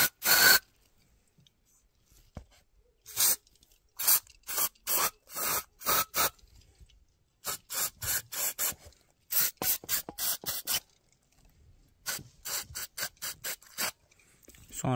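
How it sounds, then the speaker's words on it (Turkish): Brake cleaner sprayed onto the brake pad shim contact areas during rear brake pad and disc replacement on a Mazda 3: sharp, close hissing bursts come in quick repeated groups with short pauses between them, and no talk. "Şimdi fren şimlerine girdiği kısımları balata sprey ile temizliyoruz."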